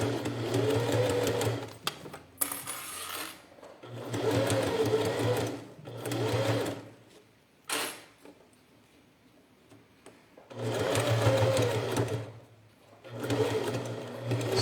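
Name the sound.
sewing machine stitching a plastic pencil case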